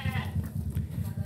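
Well-fed sheep in a pen bleat in a steady, repeating rhythm of low calls, close and fairly loud, with a faint voice in the background.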